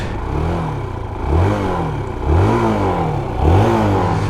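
QJ Motor SRV160 motorcycle engine starting up and being revved, close by and loud, with three or four rising revs separated by idle clatter.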